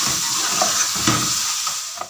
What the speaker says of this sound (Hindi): हाई फ्लेम पे हम इसे मज़ीद 5 मिनट के लिए भूनेंगे।